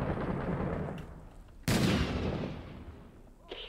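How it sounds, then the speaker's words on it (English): A grenade going off in the war game Six Days in Fallujah, a sudden sharp blast with a decaying rumbling tail, heard over earlier muffled gunfire and background noise, moderately loud. "That's a grenade."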